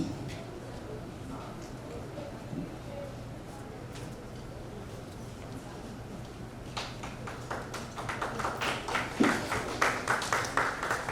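An audience at a promotion ceremony starts applauding, and the clapping swells from scattered claps into sustained applause over an announcer speaking into a microphone.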